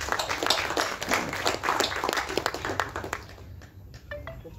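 A film audio launch crowd gives a big hand: dense, lively clapping that holds steady, then thins out and tapers off near the close.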